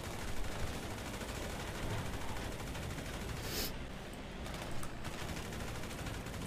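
Gunfire in a roleplay video game, a steady stream of loud, dense shots and rattling bursts filling the scene with few breaks, no clear voices over it.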